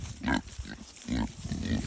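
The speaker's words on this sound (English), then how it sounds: "You can see the pigs are out enjoying the sunshine" Kunekune pigs grunt out in a sunny pasture, a few short, close, low grunts separated by brief pauses.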